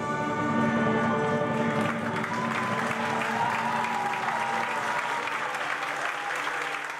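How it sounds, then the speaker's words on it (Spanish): An audience gives a standing ovation, sustained applause mixed with cheering voices and a held musical tone underneath, staying loud and full across the whole span. "De pie el aplauso, ¿no?"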